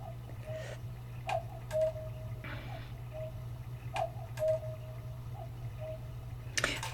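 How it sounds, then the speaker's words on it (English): A cuckoo clock ticks indoors in a quiet room, giving a steady soft tick-tock with occasional sharper knocks over a low hum, and no one speaks. "Oh, and that's my cuckoo clock."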